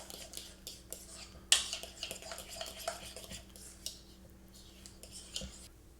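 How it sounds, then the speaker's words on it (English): A fork stirs tzatziki sauce in a bowl, making soft repeated scrapes and clinks against the dish. One sharper clink stands out early, and a quiet voice can be heard faintly in the background. "Get your fork. Give it a good mix."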